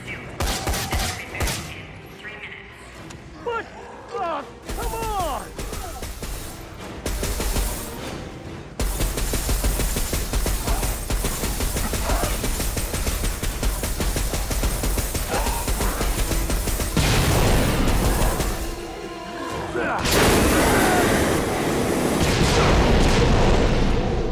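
Dead Rising 4 video game combat, with dense bursts of automatic gunfire and heavy booming explosions layered over game music and effects, loud and nearly continuous, with a few brief lulls.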